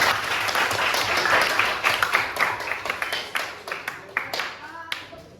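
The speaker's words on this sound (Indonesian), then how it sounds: "berikan tepuk tangan untuk kelompok Krishna" An audience in a classroom-style session claps for a group after its presentation, a dense burst of applause that thins into scattered individual claps toward the end.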